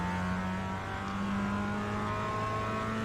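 A Mazda MX-5 race car engine in the iRacing game holds a steady high drone with layered harmonics, pulling hard through fourth gear down a straight at Tsukuba Circuit, continuous and close with no talk.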